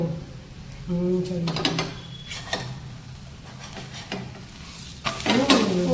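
Aloo paratha cooking in butter on a hot tawa, a steady soft sizzle running throughout with occasional scraping and clinks of a spatula, no voices.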